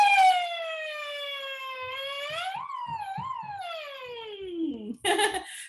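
A voice imitates a siren, gliding down smoothly in pitch with wavering rises, then ends in a short burst of breathy laughter.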